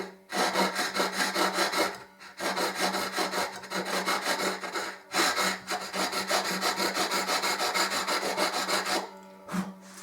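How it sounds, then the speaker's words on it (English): Gentle hand filing of a string slot on a mandolin, a close, steady rasping stroke repeated continuously with brief pauses between passes. "So some gentle filing"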